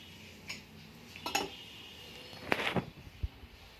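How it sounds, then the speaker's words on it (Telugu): A small metal pan set down on a kitchen stove, with a few faint clinks and scrapes of metal against the burner, quiet and close, without voices. "ఇప్పుడు స్టవ్ వెలిగించి చిన్న బాండ్లీ పెట్టుకొని అందులోకి ఒక 2 స్పూన్లంతో నూనె వేసుకుందాము"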